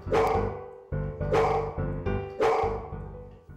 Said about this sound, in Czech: Rostík na rozdíl od Lojzíka umí zaštěkat na povel